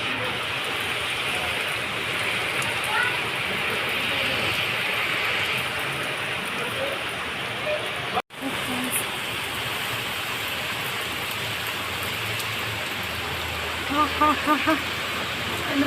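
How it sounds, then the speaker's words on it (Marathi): Steady, dense rain pours down with a constant broadband hiss, interrupted briefly by a sharp click, with faint pattering near the end. "खूप म्हणजे खूप पाऊस आहे बघा"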